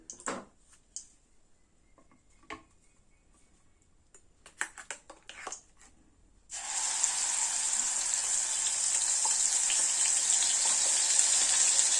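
Gravy for a stuffed brinjal curry hits the hot pan after quiet clinks, setting off a loud, steady hiss and bubbling that runs on without talk.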